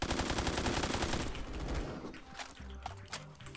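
Rapid automatic gunfire from an AK-style gun in Roblox, a dense burst of shots in quick succession that then breaks into a few scattered shots over game background sound.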